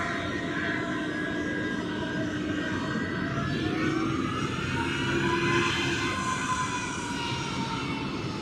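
At Zurich airport a Boeing 767 airliner's jet engines drone steadily up close, a continuous loud roar with a whining upper tone that swells slightly midway.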